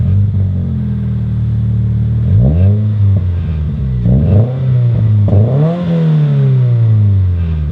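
A car with a new exhaust system, resonator and twin high-flow mufflers idles with a deep rumble, then is revved several times, each blip rising and falling in pitch, loud and close.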